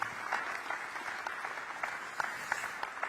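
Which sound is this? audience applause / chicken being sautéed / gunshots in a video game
audience applause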